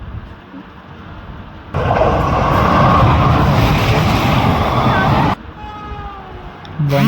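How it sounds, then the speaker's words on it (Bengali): A Vande Bharat train rushes past near the bridge at Dantan railway station, a loud broadband roar that begins abruptly about two seconds in, holds steady for several seconds, then cuts off to quieter ambience. "বন্দে ভারতে যাচ্ছে।"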